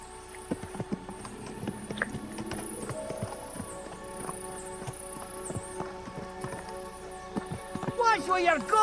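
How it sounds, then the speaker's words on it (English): Rhythmic clip-clop of horse hooves at a steady pace in the video game Kingdom Come: Deliverance II, with other sounds and music layered over them throughout. "Is this your first time riding a horse?"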